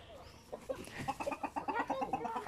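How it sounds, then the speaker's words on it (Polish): Domestic chicken or rooster clucking in a farmyard, a run of short repeated clucks growing busier and louder toward the end, fairly close with no talk over it. "ładny kogutek"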